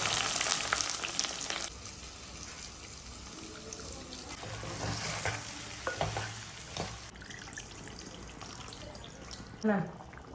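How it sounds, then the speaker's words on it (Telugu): Onions fry in a pan, a moderate sizzle broken by stirring scrapes and a few louder knocks, with a splash of water-like hiss partway through. "ఉల్లిపాయలు వేసుకోండి"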